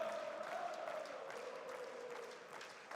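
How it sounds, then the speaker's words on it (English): Crowd cheering at a CS:GO esports match on the PGL Major Stockholm 2021 stage, a steady wash of many voices and applause from a large arena audience with sustained, fairly even loudness throughout. "Got the cheering session going ham as well in the back"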